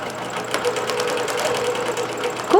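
A computerized quilting machine stitches with 40-weight polyester thread top and bottom, giving a steady, fast mechanical chatter with even rhythmic ticks at close range and a brief sharper clatter near the end.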